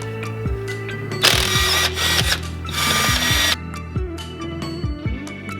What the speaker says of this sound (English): it should be a matter of removing these 10mm bolts